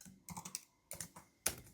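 Quick bursts of typing on a computer keyboard, a few clustered key clicks separated by short pauses, close and fairly quiet.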